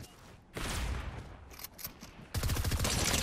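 Gunfire in the video game Fortnite, bursts of rapid shots in quick volleys separated by brief lulls, fairly close and sharp, with no talking.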